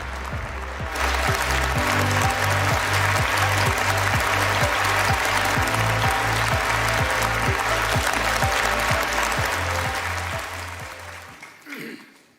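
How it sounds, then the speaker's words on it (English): A large audience at a conference opening ceremony welcomes a speaker with long, loud applause, dense clapping over a steady rhythmic musical beat that fades out near the end. "So please welcome him with a big round of applause."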